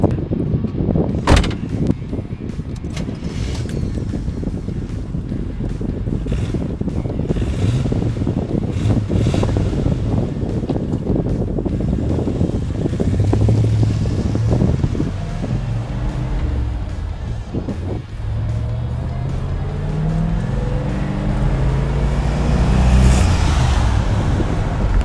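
A 1980 Chevrolet Camaro Z28 engine cranks and fires with a sharp burst, then settles into a loud, rough rumble that swells in repeated revs amid wind buffeting on the microphone.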